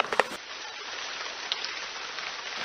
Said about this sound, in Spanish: Al sonido de la lluvia, Jesús salió a ver cómo estaba el patio.